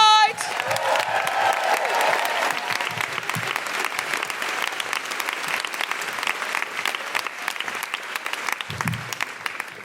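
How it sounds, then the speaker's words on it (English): A live comedy podcast audience applauds to welcome Deborah Frances-White to the stage, dense sustained clapping that starts right after a host's brief words and carries on, loud and full, to the end. "If you would, please, a round of applause. Welcome to the stage, the wonderful Deborah Frances-White."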